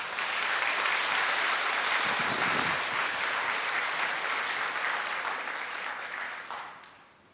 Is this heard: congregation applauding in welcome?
yes